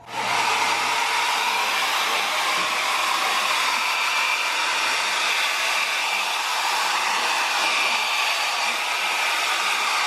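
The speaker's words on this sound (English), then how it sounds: "we found out someone really likes the blow dryer." A handheld hair blow dryer runs continuously and loudly for the whole stretch, a steady airy whoosh with a faint constant hum underneath and no talking.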